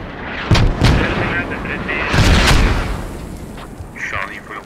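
Mortar rounds in a multiplayer combat game go off in loud, booming blasts: a pair of sharp impacts, then another heavy pair with rumbling tails, and fainter crackling to finish.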